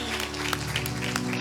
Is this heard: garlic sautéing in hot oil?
no